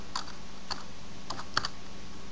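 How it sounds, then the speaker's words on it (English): Keys on a computer keyboard are tapped in a few light, sparse clicks, quiet and close, with no talking. "type this capture code in"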